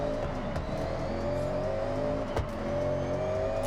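A car driving in Forza Horizon 6, its engine holding a steady, loud drone at an even pitch throughout, with a faint thump or two from the road surface and no talking.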